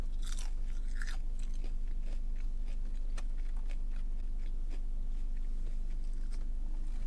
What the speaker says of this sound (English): It has a really nice crunch to it.